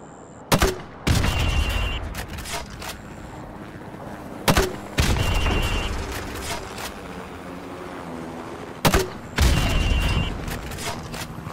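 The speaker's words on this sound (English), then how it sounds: "Right, now pop a grenade into windows 5," A grenade launcher fires in the Call of Duty Modern Warfare video game, three loud booming shots spaced a few seconds apart, each followed by a rumbling blast and lingering battle noise.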